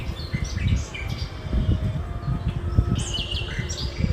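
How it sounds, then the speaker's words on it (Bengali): Birds chirp and tweet near a Durga Puja pandal, several short bright calls scattered over a busy low crowd murmur, with a louder burst of chirping toward the end. "কত সুন্দর সুন্দর পাখিরা আছে।"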